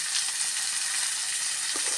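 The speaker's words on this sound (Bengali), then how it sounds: "দিয়ে এটাকে হলুদ, লবণ আর জিরার গুঁড়ো দিয়ে আমি আগে অল্প কষিয়ে নেব।" Tomato, chilli, onion and ginger paste with turmeric, salt and cumin powder sautéing in a small kadai, giving a steady close sizzle and hiss throughout.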